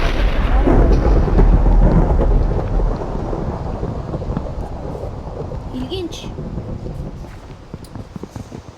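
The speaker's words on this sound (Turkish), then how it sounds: "Hem yağmur yağıyor bir de üstüne şey yağıyor." Steady heavy video game rain in Minecraft with low rumbling thunder, loudest at the start and easing slightly, while a voice briefly speaks over it.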